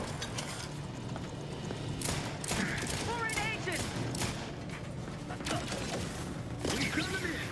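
A video game turret switches on and fires, mechanical ratcheting and clicking bursts mixed with scattered gunfire-like pops over a steady noisy backdrop, with a voice speaking at moments.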